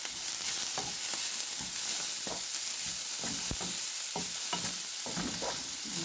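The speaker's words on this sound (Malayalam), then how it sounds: "അതിന് നമുക്കൊന്ന് ഇളക്കി കൊടുക്കാം." Beetroot pachadi being stirred in a pan, the spoon scraping in uneven clinks and scrapes over a constant sizzle, close and steady with no voices.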